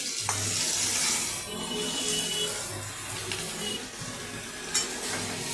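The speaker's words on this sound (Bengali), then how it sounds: "আমি একটা পরিমাণ মতো নুন দিয়ে দেবো আর পরিমাণ মতন হলুদ দিয়ে দেবো দিয়ে ভালো করে নাড়াচাড়া করবো" Spices with salt and turmeric are stirred in a frying pan for a fish curry with potato and tomato, a steady sizzle under rhythmic scraping strokes and a few soft clanks of the utensil.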